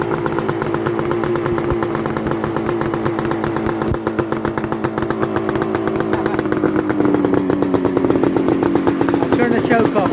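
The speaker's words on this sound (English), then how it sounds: "Alright, so let's give it a little kick. Should start." A Suzuki GT250C motorcycle engine runs steadily after a kick start, a loud, close, rapid two-stroke buzz that holds an even pulse throughout and rises slightly in revs near the end.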